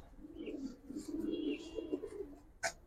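Giribaz and coloured pigeons coo softly and steadily in a close, continuous low murmur, with a brief sharper sound near the end.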